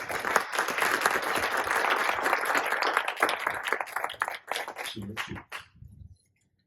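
An audience at a crisis management panel breaks into dense, steady applause that carries on for several seconds, then thins to a few scattered claps and ends in silence.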